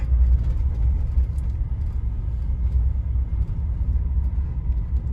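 A 2019 Chevrolet Silverado drives in drive on a bumpy track, heard from inside as a steady, loud low-pitched rumble of engine and road with faint rattles above it and no talking.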